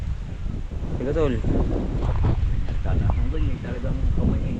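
Strong wind gusts across an exposed rooftop, a constant roaring rush buffeting the microphone while a voice speaks briefly over it.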